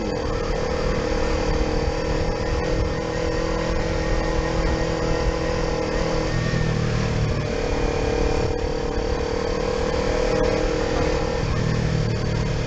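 Motorcycle engine droning steadily while riding on a touring trip, a constant close engine and wind roar with no pauses.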